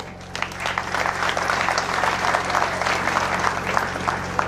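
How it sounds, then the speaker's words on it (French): An audience at an academic graduation ceremony applauds steadily, dense clapping that swells quickly and holds at a constant level over a low hall hum. "des applaudissements mérités."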